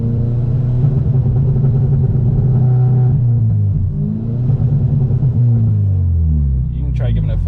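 Acura RSX Type-S engine revving with the clutch in at about 70% throttle, a loud, sustained droning rumble with rising and falling pitch throughout, close to the microphone.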